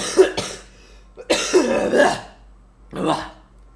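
A person who was smoking and laughing coughs in three close, rough bursts, the middle one longest and throaty, separated by brief quiet gaps.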